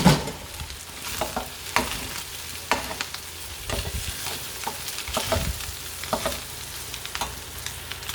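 Toasted quinoa in a pan hisses and sizzles as water goes in and a spoon stirs it, steady close frying with repeated scraping strokes throughout.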